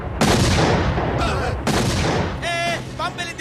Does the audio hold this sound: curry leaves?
no